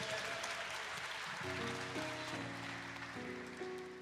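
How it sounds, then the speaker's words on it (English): An audience at a Rainbow PUSH convention gives a steady round of clapping, fairly soft and continuous, while sustained musical notes play underneath. "Give him another loving round of applause."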